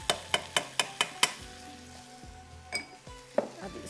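Peas sizzle in a pan as a spoon strikes it in a quick run of six sharp metallic scrapes and clinks, followed by slower stirring and a soft frying hiss, close and without speech.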